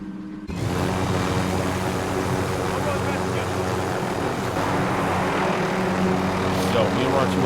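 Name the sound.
helicopter flying in a video game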